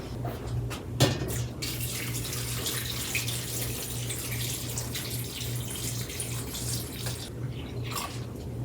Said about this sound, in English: we're going to get that filled with water.